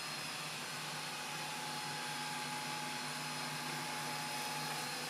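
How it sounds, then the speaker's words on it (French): A Narwal Freo X Plus robot vacuum cleaner runs indoors, skirting a rug, giving off a steady, quiet broadband whir with faint tonal hums that hold constant throughout. "Il est vraiment extrêmement discret comme aspirateur"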